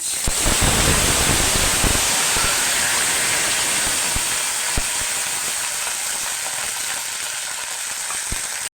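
Chopped onion sizzling in a hot pan with bay leaf and asafoetida water for a chana dal recipe, a loud, steady, close hiss with a few small pops and crackles.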